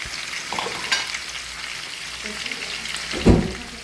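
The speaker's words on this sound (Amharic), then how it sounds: "ያ ትንሽ በሰል እስከሚል ድረስ በደንብ ጥብስ አድርጉት።" Steady sizzling of spices, including black seed, frying in a pan, with a few scraping stirs and a louder clatter near the end.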